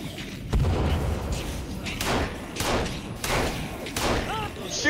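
Several heavy gunshots boom out at irregular intervals while a monster is shot at in a video game, each blast loud and broad with a decaying tail over a steady background of game noise.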